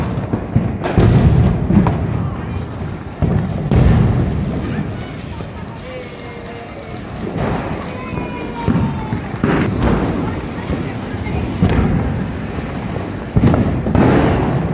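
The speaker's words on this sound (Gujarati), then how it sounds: "મોટા ફટાકડા નથી ગમતા, અવાજ વગરના ગમે ને વાયલેન્ટ." Diwali firecrackers and fireworks bursting outdoors in repeated loud thumping blasts at irregular intervals, with wind buffeting the microphone and people talking in between.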